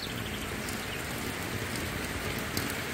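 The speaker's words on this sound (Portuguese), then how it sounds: "Muita chuva hoje, bacana." Heavy rain pours down at a riverside home, a thick continuous wash of drops with occasional sharper splashes, even and steady with no talking.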